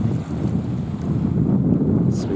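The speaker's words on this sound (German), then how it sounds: "Es weht ein leicht kühler Wind von Norden." A slightly cool north wind blowing by the sea near Trapani, a steady broadband rush buffeting the microphone with continuous low rumble and no talk.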